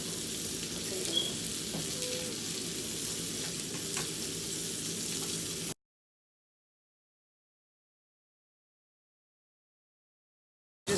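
Sausages frying in a pan, a steady close sizzle with faint crackles for about six seconds before the sound cuts to silence.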